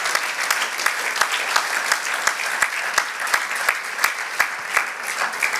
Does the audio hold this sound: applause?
yes